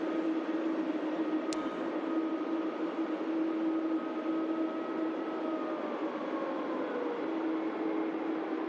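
A Boeing 747 departing Manchester Airport gives a steady, continuous jet roar with a sustained whine running through it, heard from a distance without any voices.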